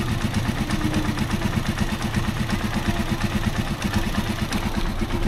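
Rusi Chariot 175 motorcycle idling after sitting unused for a week, a steady close engine note with rapid even low-end pulses and light mechanical clatter throughout, no talk.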